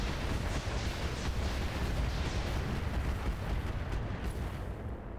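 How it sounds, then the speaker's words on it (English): A missile barrage pounding a mech in Roguetech, a continuous loud roar of overlapping explosions and rumbling impacts that holds steady for several seconds. "He says as he gets plastered in the face by a ton of missiles."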